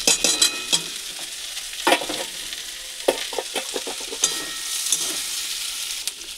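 Carrot pieces fry in a pan with a steady close sizzle, broken by several sharp scraping stirs of a spatula at irregular intervals.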